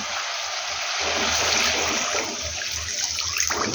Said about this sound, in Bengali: তো এখন এটার মধ্যে আমি দিয়ে দেব গরম জল